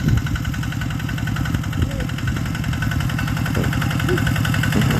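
A tractor engine idles and runs steadily in a rice paddy, a loud, continuous mid-pitched rumble with regular pulsing throughout and brief faint sounds on top.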